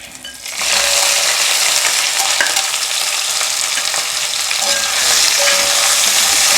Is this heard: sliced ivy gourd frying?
yes